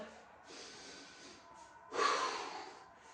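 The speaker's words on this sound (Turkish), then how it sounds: "Burundan derin derin nefes al." Two sharp inhalations through the nose during a light-tempo resistance band Pilates workout, a short sniff followed by a louder, longer deep breath in, close and audible with no talk.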